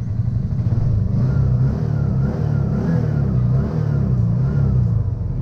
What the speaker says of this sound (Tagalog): I-rev muna natin.